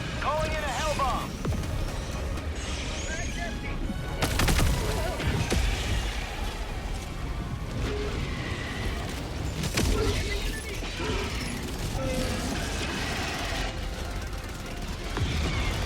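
Sentry turrets in the Helldivers 2 video game fire in bursts of gunfire and a few heavy booms, mixed with mechanical clatter and game music, while a player talks over the action.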